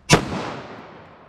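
A single sharp gunshot from a 5-inch M&P pistol firing .40 S&W, a loud close crack followed by a decaying echo over about a second.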